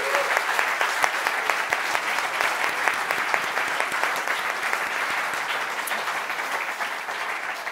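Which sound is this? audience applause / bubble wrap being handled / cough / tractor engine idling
audience applause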